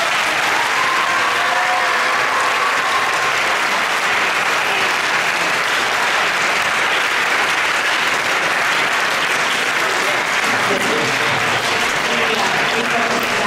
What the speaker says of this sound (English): if we could give Fanatic a big round of applause